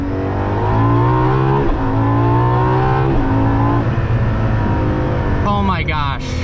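A Ferrari LaFerrari accelerating hard, its engine note climbing steeply in pitch through several gear changes, each shift briefly dropping the tone before it rises again, heard from inside the car and close, with a voice at the end.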